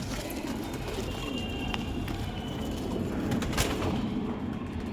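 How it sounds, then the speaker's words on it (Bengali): Phulshira line pigeons, blue-eyed birds kept in a loft, coo softly at a moderate distance, a low steady murmur with a few sharper clicks and bumps over background hiss and no talking. "আর একটা ফুলশিরা লাইনের পায়রা দেখুন"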